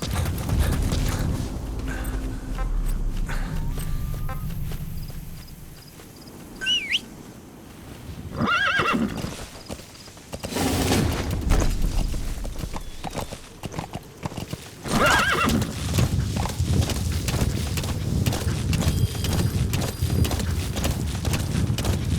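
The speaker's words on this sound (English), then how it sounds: "Use your horse." Horse hooves clip-clop rhythmically while a horse neighs and whinnies loudly, mixed with rustling and shifting ambient sounds from the video game Metal Gear Solid V: The Phantom Pain.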